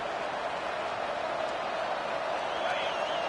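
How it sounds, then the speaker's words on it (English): A football stadium crowd keeps up a steady, dense roar throughout, loud and broad, with faint talk buried beneath it. "listen to this crowd roar"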